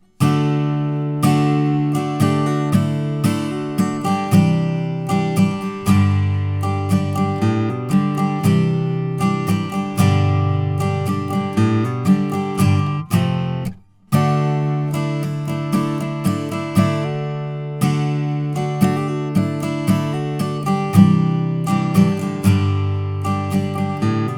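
A guitar plays the verse riff of a song, a repeating rhythmic riff with plucked chords and notes, continuous except for one brief pause midway.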